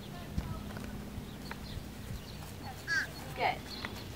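A horse walks in a riding arena with a soft, steady clip-clop of hooves at moderate distance, over faint background noise, with a couple of brief higher sounds near the end.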